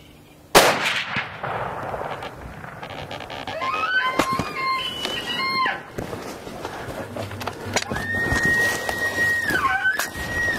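A muzzleloader rifle fires one sharp, loud shot at a big bull elk on a New Mexico hunt, followed by rustling movement and high whistling or bugling calls in the open air.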